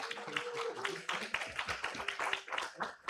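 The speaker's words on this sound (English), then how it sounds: "give one more huge round of applause for all 21 of our finalists" An audience at a research pitch event in Yogyakarta claps for the finalists, a dense patter of hand claps that swells and dips in waves throughout.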